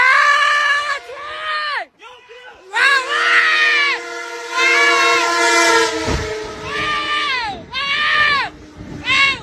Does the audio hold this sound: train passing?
yes